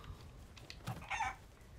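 A chicken in the pirate video game Sea of Thieves gives a short, faint cluck amid quiet background noise, a single soft call with no talking.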